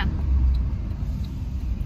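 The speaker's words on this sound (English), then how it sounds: "it's so crazy up here. Like the traffic and all the cars" Traffic on a busy city road with a bus lane: cars and buses produce a continuous low rumble, close and steady, with no voices.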